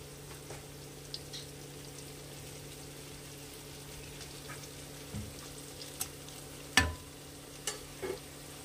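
Marinated chicken for chicken chaap goes into a pan and is stirred, giving a faint, steady frying hiss with occasional soft scrapes and clinks of the utensil, with no voices.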